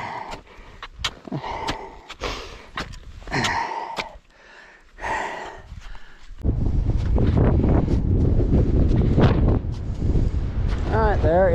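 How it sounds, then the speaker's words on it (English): Near a summit on Mount Challenger's Eiley Wiley Ridge, a person speaks and breathes hard at first. Then strong wind gusts roar loudly and steadily against the microphone for the second half. "Ooh, breezy."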